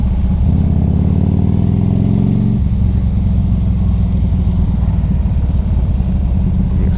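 A 2003 Harley-Davidson Electra Glide on a test ride gives a loud, close, deep rumble whose low throb shifts pitch partway through, then settles into a steady drone, with no talk.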